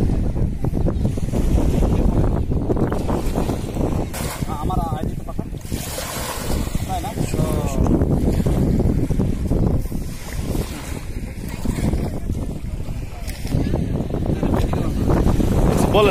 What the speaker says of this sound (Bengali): ঢেউয়ের কত সুন্দর শব্দ, অনেক সুন্দর শব্দ দিচ্ছে, নদীর মধ্যে দিয়ে নৌকা যাচ্ছে